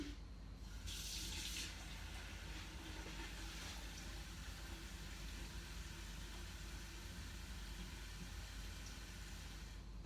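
Tap water runs steadily into a container to top up the brine for a whole chicken, a soft, constant wash with a brief brighter splash near the start and no talking.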